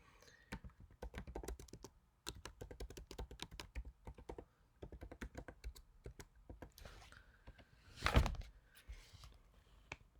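Rapid clattering of computer keys in uneven bursts, close and fairly quiet, with a louder thump near the end.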